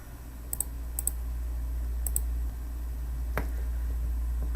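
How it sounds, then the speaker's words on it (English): Calculator keys pressed while entering numbers into a list, a few soft clicks in quick pairs then a single tap, close and quiet over steady low hum. "I'm going to type the numbers on the right"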